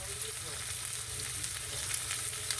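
A thin steak frying in a hot pan gives a steady, close sizzle with dense crackling that runs without a break, and no one speaks over it.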